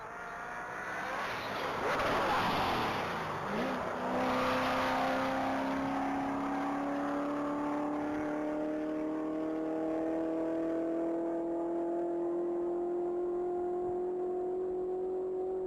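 A 2019 Chevrolet Camaro Corvette Z06 race car at a top-speed mile event, its engine roaring loudly close by and then holding a long, steady rising drone as it accelerates away into the distance.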